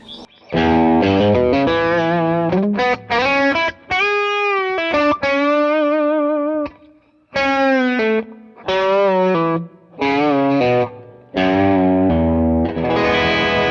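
An electric guitar plays a bending, twangy lead lick with distortion and chorus-like shimmer, sustained notes separated by brief gaps, no talking.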